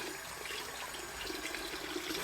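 Water running steadily from a tap, a continuous soft hiss and splash close by with no talking.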